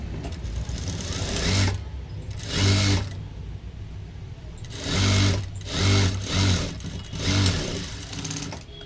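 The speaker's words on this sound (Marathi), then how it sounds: "अर्धा इंच स्टिच अगोदर मारून घ्यायची" A sewing machine stitching a blouse runs in several short bursts of rapid mechanical whirring, loud and close, with quiet gaps between runs and no talk.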